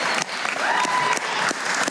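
Dense, loud applause from a crowd at a live interview, steady clapping filling the whole stretch with a faint whistle rising briefly through it.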